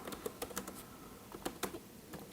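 Irregular bursts of computer keyboard typing, with quick close keystroke clicks in two short flurries separated by a brief pause and no talking.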